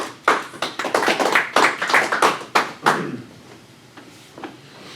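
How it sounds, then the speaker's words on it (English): Applause from a small group after a county board member takes the oath of office, about three seconds of close, scattered clapping that tapers off into a few last isolated claps. "We clapped because you remembered everything you said."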